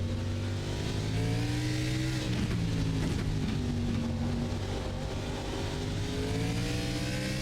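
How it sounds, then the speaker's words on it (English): A race car engine in iRacing at Mid-Ohio climbs through the revs and peaks over a crest, a continuous loud buzzing drone with rising and falling pitch from the cockpit. "You hear the uncertainty in his right foot as he comes over the crest. You hear the revs peak too."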